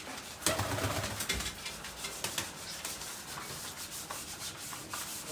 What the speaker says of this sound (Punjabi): ਇਹ ਕਬੂਤਰ ਜਿਹੜੇ ਆ ਆਪਾਂ ਉਧਰ ਜਾਲ ਚ ਪਾ ਦਿੰਦੇ ਆ